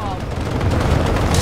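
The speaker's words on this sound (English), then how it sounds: "I'm going to shoot him and I'm going to shoot the other one." Rapid video game gunfire from the player's weapon in an aerial combat match, a dense continuous burst of shots filling the whole moment at steady loudness.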